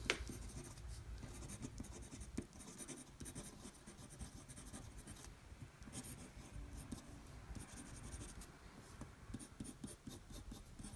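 A fountain pen nib moving across fairly absorbent paper makes a close, continuous scratchy rasp with small bursts of strokes throughout, quiet and alone without speech.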